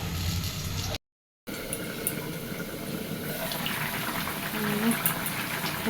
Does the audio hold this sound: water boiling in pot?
yes